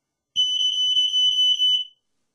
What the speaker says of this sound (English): If you had one of these carbon monoxide alarms